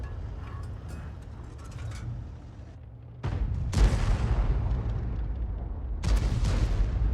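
An artillery shell fired from a G.W. E 100 self-propelled gun in World of Tanks, a loud sudden boom followed by a rumbling tail, with a second heavy blast a few seconds later and game ambience between them.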